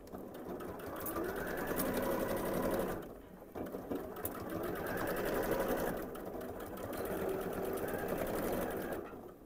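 A sewing machine stitches fabric for a Christmas tree panel, running in steady bursts of rapid, even needle strokes with two brief pauses between runs, close and clear with no talking.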